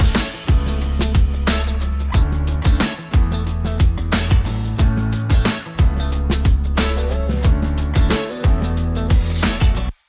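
A guitar part in the first chorus of a full band production, loud and dense over steady drums and bass with a punchy, rhythmic groove and no voices.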